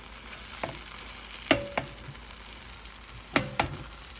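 Keto blueberry pancakes sizzle softly in a pan, with a few sharp scraping clicks as a spatula slides under and flips them, close by and without talking.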